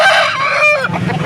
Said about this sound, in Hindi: ये वाहिद भाई का एक और मुर्गा है